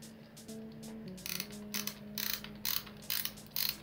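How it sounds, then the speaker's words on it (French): A small dial on an old camera being turned, giving a close, faint run of ratcheting clicks that quicken into regular mechanical ticks over a low hum. "Cette petite molette les amis,"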